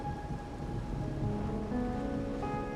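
Rain falls in Raguna in the Wuthering Waves video game. It is a steady, dense downpour with low rumbling and faint sustained musical tones beneath, and nobody speaks.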